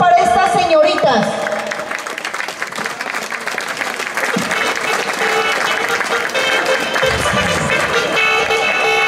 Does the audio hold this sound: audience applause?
yes